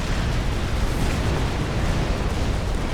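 Supreme Commander: Forged Alliance tactical missile bank being destroyed in a game explosion, a dense, continuous roaring blast of broadband rumble that stays loud and steady throughout without pause.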